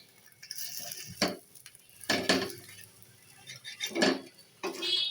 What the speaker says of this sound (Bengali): ডিমের অমলেটটাকে আমি এবার বাজ করে নেব বাজ করে আমি মাঝখান দিয়ে কেটে নেব